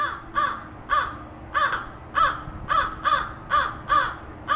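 An American crow caws at a great horned owl outdoors, about nine loud, evenly spaced harsh caws in a steady rhythm, close and clear with no talking.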